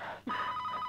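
A telephone rings during a call, a single short electronic ring tone starting abruptly and holding steady, heard close and alone.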